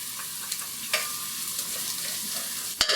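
Salami and garlic sizzle in a pan with softened onions, a steady hiss of frying with light scrapes of stirring and one sharp clack near the end, close and alone.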